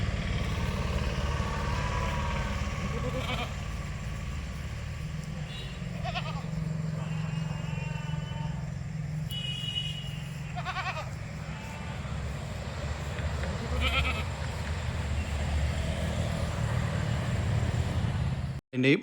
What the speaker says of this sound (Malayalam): ഫസ്റ്റ് പ്രസവത്തിലുള്ള ഒരു ക്രോസ് ബീഡ് ആട്